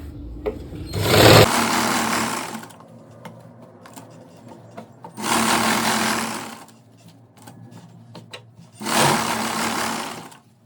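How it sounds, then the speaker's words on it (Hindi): A sewing machine stitches elastic into palazzo pants in three loud, close bursts of rapid whirring, each a couple of seconds long, with quieter fabric handling in between. "अब इस पे सिलाई लगाएंगे।"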